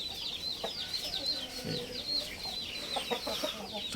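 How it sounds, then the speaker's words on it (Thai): Rooster in a Thai fighting-cock setting, clucking in short soft bursts over a rustling background with other fowl nearby; no talk. "อันนี้คือพ่อไก่นะครับ"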